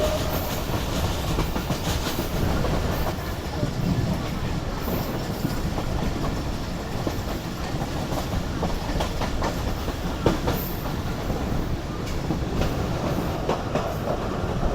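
A Jaffer Express pulled by a Chinese locomotive rolls toward Shahjahabagh Junction on the line from Khanewal, Faisalabad and Sangla Hill, giving a steady, loud rumble with continuous clickety-clack of wheels over rail joints and no voices.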